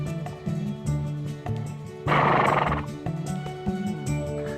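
A foal whinnies from nearby at a wild horse rescue, one loud, bright neigh of under a second rising over steady outdoor background noise, with other quieter animal calls around it.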